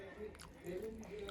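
Soft, close chewing of potato from a hot vegetable khichuri with peas, a short moist squishy mastication that stays quiet and brief.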